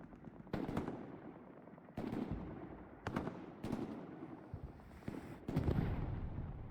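Gunfire and explosive blasts from Hell Let Loose, a World War II shooter game, ring out as a rocket is fired into a doorway: sharp bursts in an irregular series, each trailing off, fairly faint overall.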